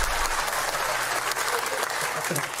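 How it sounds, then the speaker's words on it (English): An audience on a comedy panel show claps in a dense, steady burst, with faint voices mixed underneath. "Round of applause"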